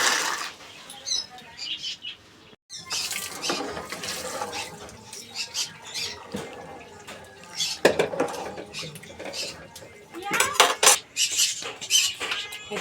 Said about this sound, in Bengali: দেখো গরম জলের মধ্যে দিয়ে দিচ্ছি সব মটরগুলো